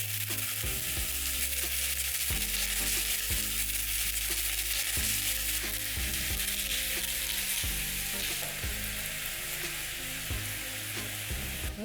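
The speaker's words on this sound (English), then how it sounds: "Take your gizzards and place them in the pan." Chicken gizzards frying in an oiled pan, a loud, continuous close-up sizzle with repeated low knocks and scrapes as pieces are placed and shifted, no talking.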